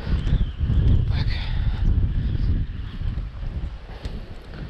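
Strong north wind gusts across a lakeshore during a storm, heavy low buffeting rumble against the microphone, loud and continuous with rising and falling surges.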